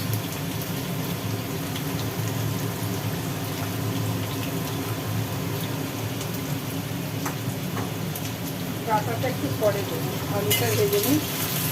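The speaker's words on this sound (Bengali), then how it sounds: "তাহলে আলু আর পেঁয়াজটা একটু ভাজা ভাজা করা হচ্ছে" Potato and onion fry in a pan in a small flat kitchen, giving a continuous moderate sizzle with light stirring scrapes, and a voice is faintly present in the background.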